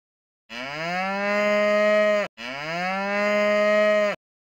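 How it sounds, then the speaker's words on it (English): A cow moos twice in a row, two long, loud, drawn-out calls with a brief break between them, heard alone and close with no other sounds. "cow,"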